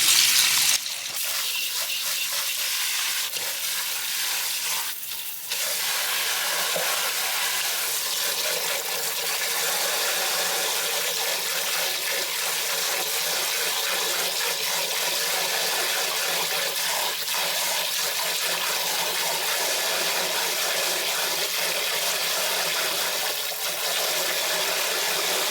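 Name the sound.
cold tap water running onto sprouts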